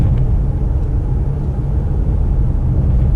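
Cabin of a 2018 Audi Q5 2.0T four-cylinder luxury SUV on the move, a steady low road and engine rumble with faint wind hiss, quiet and even throughout, no talking.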